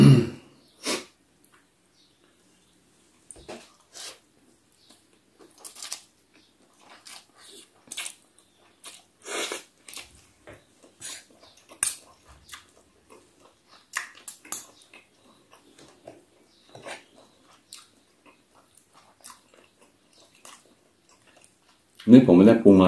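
Noodles being eaten, with scattered close slurps and wet chewing bursts separated by quiet pauses, irregular and intimate, and a voice briefly at the start and louder at the end.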